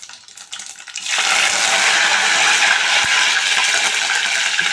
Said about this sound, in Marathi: राई आता तडतडायला लागली